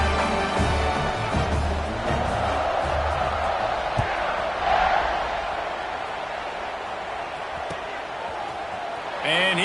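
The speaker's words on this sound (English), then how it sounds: "this crowd is buzzing after that last score" Football stadium crowd buzzing after a touchdown, a steady wide roar of many voices with scattered cheers and whoops. It holds for the whole stretch, with announcer-style talk running over it.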